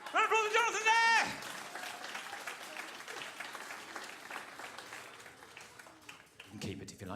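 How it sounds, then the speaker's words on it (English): At a family comedy show at the Comedy Store in Manchester, a kids' audience claps steadily for several seconds after a short musical jingle, with chatter and voices mixed in. "Round of applause for Jonathan there!"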